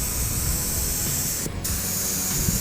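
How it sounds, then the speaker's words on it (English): A steady, loud spray gun hiss runs continuously as primer is sprayed on a car, with one brief dip partway through before resuming evenly. "when you're spraying the color, you're going to want to remember that."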